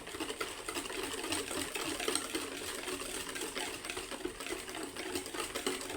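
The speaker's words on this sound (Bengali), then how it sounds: "এখন এটাকে আমি ভালো করে ফেটিয়ে নেব।" Sugar and white cooking oil are beaten together by hand in a bowl, a continuous fast whisking rattle that runs steadily and faintly throughout.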